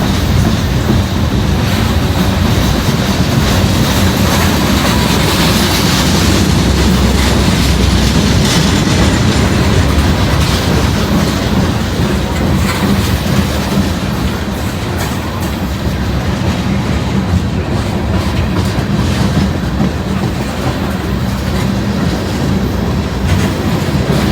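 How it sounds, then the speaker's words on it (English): A very long train rolls slowly past nearby, with steady wheel rumble and rhythmic clickety-clack running continuously and loudly, and no voices. "Boy, this is a long train right here. It's going real slow, but this is still a long train."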